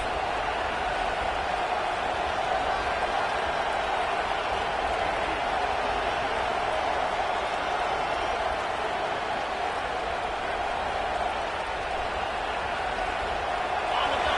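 Steady stadium crowd roar from the NCAA 26 college football video game, a dense continuous wash of distant voices holding at an even level throughout, with no distinct cheers or peaks.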